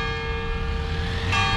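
The bell of São Sebastião chapel on Largo de São Sebastião in Manaus, near Teatro Amazonas, rings out with a sustained metallic tone. A single ring hums clearly over outdoor city ambience.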